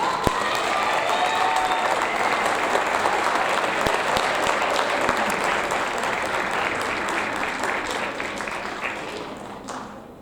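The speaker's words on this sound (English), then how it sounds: "All right, one last round of applause for marking period 1." A large audience of seventh graders and families at a school awards ceremony claps in a dense, sustained wash for about ten seconds, loud and even, with a few sharper nearby claps on top before it thins at the end.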